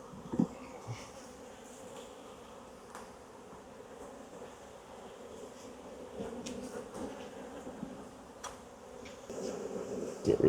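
Honeybees buzz steadily around an open hive in the middle of a summer honey flow, a dense continuous drone of many insects close by with occasional louder passes near the listener.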